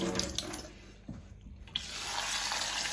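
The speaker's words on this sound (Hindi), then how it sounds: "तो इसको मैं 2-3 मरतबा धो लेता हूँ।" Tap water runs steadily into a sink while an item is rinsed under it, the flow briefly interrupted and splashing near and loud, with no talking.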